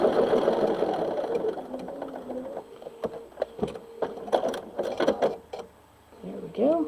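A sewing machine stitches a quilt medallion seam nearby with a fast mechanical whirring chatter, followed by scattered clicks and knocks as the machine slows and stops, with brief soft vocal sounds near the end.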